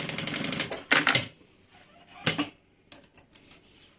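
A domestic sewing machine stitches the lining into a handbag in short bursts, two quick runs of rapid needle clatter followed by a longer pass and a few light taps and clicks between pauses.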